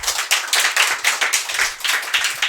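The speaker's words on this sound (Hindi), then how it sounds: "तुम खींच के जोर से तालियां बजाओ खुद के लिए।" Steady hand clapping from several people, a quick uneven rhythm of sharp claps repeating throughout with no talking.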